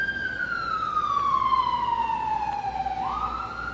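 An ambulance siren wails as the vehicle passes on a street in West Chester, one long tone sliding steadily downward, then jumping back up near the end, loud and close over low traffic rumble.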